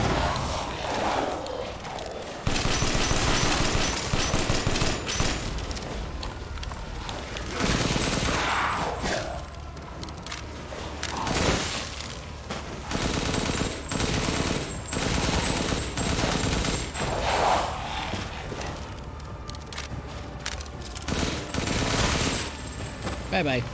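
Rapid bursts of gunfire from Resident Evil Village, with automatic fire and heavy shots crackling continuously and a player speaking over some of it.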